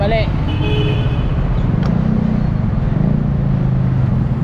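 Busy Manila street traffic, cars and other vehicles in a steady close roar with a brief horn toot near the start, voices talking over it.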